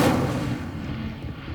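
A cast of the Incendio fire spell in Hogwarts Legacy, a loud whooshing burst at the start that fades over a second and a half.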